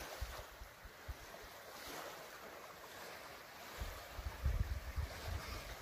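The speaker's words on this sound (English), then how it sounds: "waves have picked up already" Ocean waves picked up on a foggy morning at sea, heard from a boat as a soft continuous wash with low rumbling surges and some wind buffeting, growing louder toward the end.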